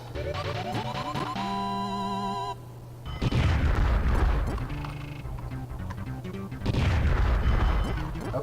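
Chiptune-style game music with sustained synth tones gives way to loud, broadband bomb explosions from Super Bomberman 5, two heavy booming bursts around 3 and 6.7 seconds with crackling debris over continuing music, no talking.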